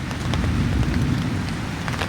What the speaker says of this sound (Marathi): पहिलाच पाऊस आहे